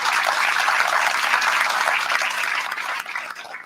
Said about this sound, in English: Let's give them a round of applause for coming up with this concept.